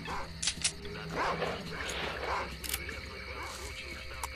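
A hostile dog in the S.T.A.L.K.E.R.: Clear Sky video game, barking and yipping in several sharp bursts with whimpers between them, close and moderately loud over game ambience and shots.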